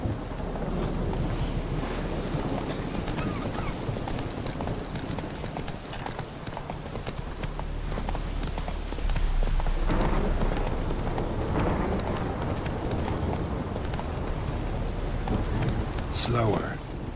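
The horse Roach from The Witcher 3: Wild Hunt, hooves clip-clopping in a steady rhythm over a windy outdoor ambience, with a voice speaking over it now and then.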